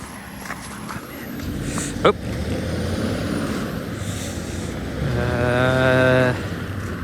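A city bus in icy winter weather pulls in among street traffic, with a sharp hiss of air brakes partway through and a rising whine as the vehicle passes close by near the end.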